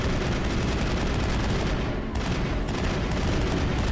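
Continuous, loud gunfire from the video game Mass Effect, with rapid shots blurring into a dense, unbroken barrage and only a brief dip partway through.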